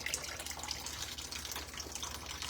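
Tap water runs steadily while mushrooms are rinsed at a kitchen sink, a continuous close hiss and splash with no talk.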